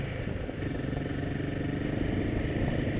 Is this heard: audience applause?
no